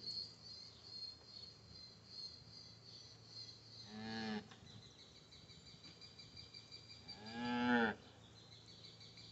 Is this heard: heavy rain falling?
no